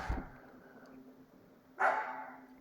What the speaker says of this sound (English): And excuse the noise from our ferocious guard dog, Dolly.